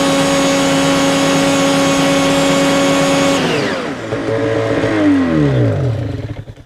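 Ski-Doo snowmobile turbo engine held at full throttle with a loud sustained whine for several seconds, then a sudden drop off the rev limiter into rumbling, descending revs as it winds down.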